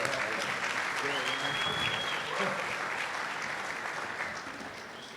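A breakfast crowd applauding to welcome a governor at the Newark Mayor's Men's Breakfast, sustained dense clapping that slowly tapers, with faint voices and a whistle mixed in.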